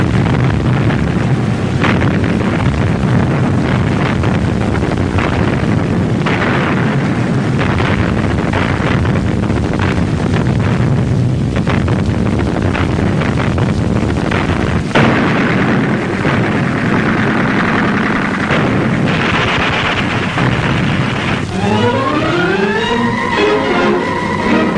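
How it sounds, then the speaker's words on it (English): Heavy artillery fire at point-blank range in the Battle of Stalingrad, a dense, loud, continuous rumble of booms and blasts with a wavering siren-like tone rising near the end. "The Russian artillery opens up on them at point-blank range."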